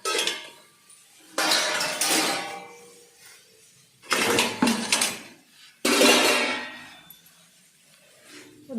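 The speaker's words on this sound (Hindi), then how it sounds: "अब ये बर्तन मैं लगाने जा रही हूँ स्टैंड में।" Steel utensils and dishes set into a dish rack stand in a home kitchen, several bursts of close metallic clatter and clinks separated by quieter pauses.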